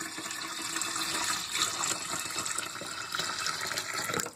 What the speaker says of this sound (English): pour the rest into this big bowl